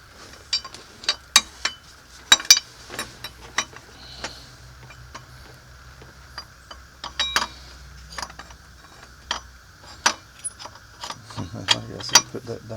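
An A/C delete pulley goes onto a 1990 Jeep Cherokee engine, heard as irregular sharp metallic clicks and ratchet-like ticks, close up over a low background hum with occasional faint movement.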